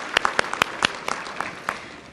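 Scattered hand claps from a small audience at a volunteer recognition luncheon, a handful of distinct close claps spaced irregularly over a couple of seconds.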